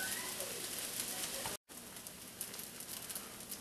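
Fried rice with vegetables and meat sizzling in a somewhat dry pan, a quiet, steady crackling hiss cut by a brief gap of silence midway, then resuming with light pops.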